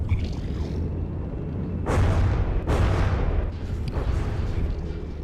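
A new laser weapon in From the Depths strikes an enemy ship, with several loud, broad blasts in a row, each a sharp burst fading into rumble against a steady low drone.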